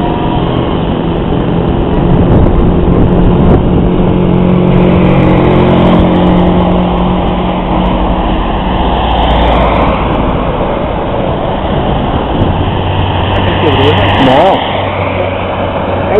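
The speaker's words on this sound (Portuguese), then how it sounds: "é o vento e os carros" Steady roar of cars passing close by, engine drone rising and falling under gusting wind, with voices talking faintly in the background.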